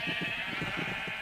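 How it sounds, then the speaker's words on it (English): A sheep in a Minecraft-style animation bleats in one steady, wavering cry that lasts about a second, close and loud with no talk over it. "Move, sheep."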